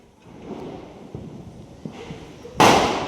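A sharp, loud firecracker blast near the end during Diwali, following a stretch of quieter background noise with a few faint pops.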